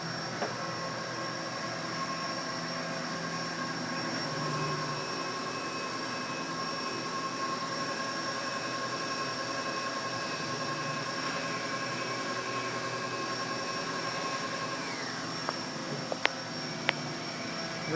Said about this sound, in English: To lift the counterweights, press and hold